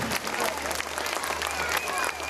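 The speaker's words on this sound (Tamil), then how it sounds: "கைத்தட்டுங்க அவருக்காக" An audience at a school annual day claps in a continuous, lively burst of applause, with scattered voices and whoops mixed in among the clapping.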